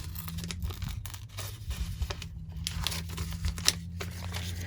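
Foundation paper being torn away from a pieced square-in-a-square quilt block seam, a steady papery ripping and crinkling close by, with soft scratchy bursts over a low background hum.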